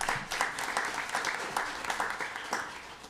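A State Board of Education meeting audience breaks into steady applause for a recognized member, many hands clapping in a dense, continuous patter that holds at an even level for several seconds.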